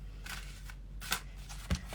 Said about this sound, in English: let's shuffle this a bit more. I want to do it on the table.